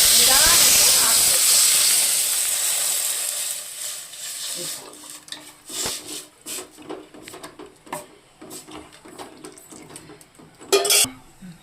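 A loud hissing sizzle bursts out as buttermilk is poured into hot tempering oil for majjige huli, fading over a few seconds into quieter crackles, scattered clinks and stirring clatter.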